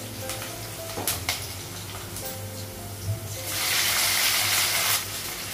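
Onion frying in a pan until reddish, with a soft sizzle, a few utensil clinks and knocks, and a louder burst of hissing near the end.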